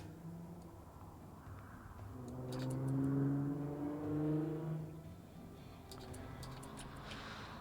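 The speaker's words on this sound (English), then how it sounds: "if you guys hear loud cars in the background" Cars passing on a busy street outside, a faint distant engine that swells as a vehicle passes, then fades, with light ticking in the background.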